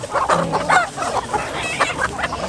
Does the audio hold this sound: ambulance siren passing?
no